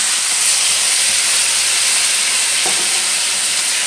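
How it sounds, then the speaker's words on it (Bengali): Marinated mourala fish frying in hot oil in a kadai gives a loud, close, continuous hissing sizzle that stays steady throughout. "এখন মাখিয়ে রাখা মাছটা কড়াইতে দিয়ে দিলাম"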